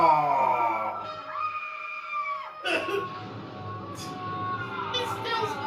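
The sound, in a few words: man screaming in a horror film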